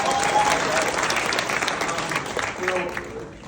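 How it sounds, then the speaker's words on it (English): A crowd at a sold-out live event in Edmonton bursts into sustained applause, a full wash of clapping that gradually thins and fades toward the end, with a few scattered voices. "So give yourselves a round of applause"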